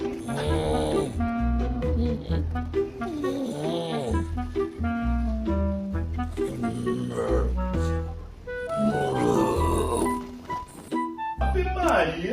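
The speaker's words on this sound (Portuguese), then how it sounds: "O cara me chama pra descansar desse jeito, roncando, parecendo um urso." A man resting after lunch snores loudly, with long, rough, groaning breaths that rise and fall in a steady cycle and sound close up.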